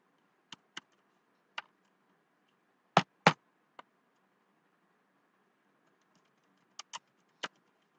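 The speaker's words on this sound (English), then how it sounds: "So I'm going to type the dictionary object over here" Sparse clicks of typing on a computer keyboard, isolated taps and a quick double tap in the middle, with silent gaps between them. The taps sound close and crisp against a quiet room.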